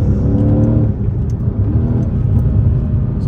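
A car engine revving loudly through its exhaust pipes in Bush Park Ridge, close and throaty, with rising and falling revs layered over a deep, steady rumble.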